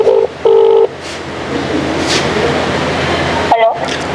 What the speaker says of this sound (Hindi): हम बीएसए साहब को फोन कर लेते हैं